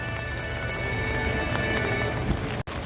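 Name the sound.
rain falling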